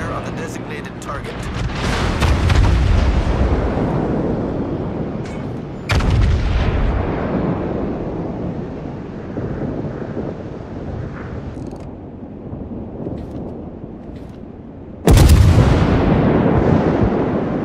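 Heavy naval gunfire booms in the World of Warships video game, with three loud broadband salvos at roughly 0, 6 and 15 seconds, each decaying into a rumbling tail, under faint game voice callouts.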